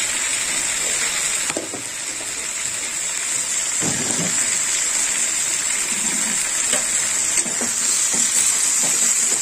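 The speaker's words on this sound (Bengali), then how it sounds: "ভালো করে নেড়ে চেড়ে নেবো।" Palang spinach curry with fish heads is stirred in a frying pan, giving a steady hiss and sizzle with occasional soft scraping strokes. The cooking sounds run continuously and close, with no talking.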